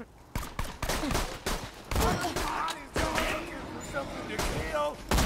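Rapid gunfire from a weapon in the Borderlands 2 video game, with sharp repeated shots cracking in quick bursts throughout over game sounds, while a person talks.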